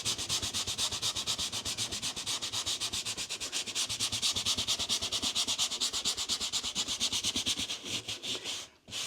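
A leather Bible cover being scrubbed hard makes a continuous close, rhythmic brushing rasp, with fast even strokes that stop abruptly near the end and no speech.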